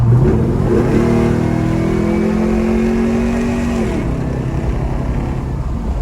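A 1972 Chevrolet Chevelle with an upgraded suspension cruises at around 50, its engine a loud, close, steady drone that rises in pitch briefly and then settles back, with no voices.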